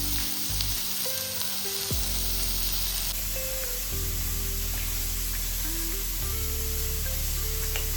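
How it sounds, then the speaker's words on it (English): Sliced mushrooms and tomatoes frying in a pan with sauce, a steady loud sizzle and hiss running throughout, with a low hum beneath and no talking. "we'll take a pan and जो भी हमने वेजीज लाइक मशरूम, टोमेटोज ये सब काटे and the sauce इसमें डाल देंगे"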